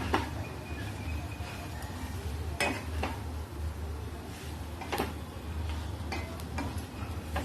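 Chapati pieces with turmeric and salt are stirred in a pan, a soft frying hiss under scattered ticks and scrapes of a utensil against the pan, faint and without talk.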